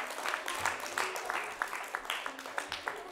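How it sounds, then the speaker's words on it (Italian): Scattered applause from a small audience at a live event, individual claps popping irregularly over a busy crowd murmur, moderately close and fairly soft. "Un applauso"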